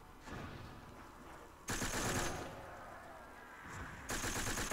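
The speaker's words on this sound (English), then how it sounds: "I gotta say, I like the sound of this MP40 now." MP40 submachine gun firing in Call of Duty World at War zombies, two loud sustained bursts of rapid automatic fire separated by a quieter stretch of game ambience.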